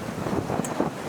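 Wind buffets the microphone on a sailboat making good speed under squalls, a steady close rushing roar with faint water wash beneath and no talking.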